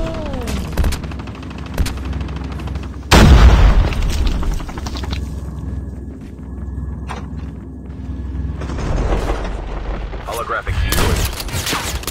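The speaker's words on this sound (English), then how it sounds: "Our vehicle is about to explode." A vehicle explodes in Call of Duty Mobile battle royale with a heavy, close boom that rumbles on, among gunshots, footsteps and other game sounds.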